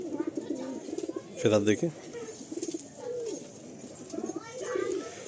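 A female pigeon coos in soft, low, repeated calls, heard close, with a person speaking briefly over the cooing.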